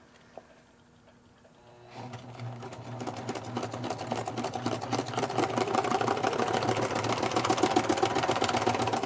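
A sewing machine stitches a quilted teabag gift envelope, starting quietly and then running fast with a steady mechanical whir and rapid needle clatter, close and growing louder.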